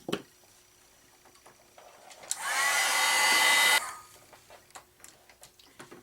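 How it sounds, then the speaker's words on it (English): A heat tool blows over freshly painted decor on a wooden welcome sign in one loud, steady whooshing burst of about a second and a half, with quiet room and small clicks before and after. "give that a quick once over with the heat tool to try and get this to dry up"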